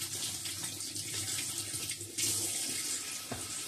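Tap water runs steadily into a sink as artichokes are washed under it, a continuous close splashing hiss that swells briefly louder partway through, with no voices.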